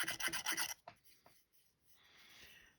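Light rubbing strokes on a Shakespeare Tiger fishing reel as scratches are polished out, a quick run of soft raspy passes followed by a couple of faint isolated scrapes and a quieter, fading rub.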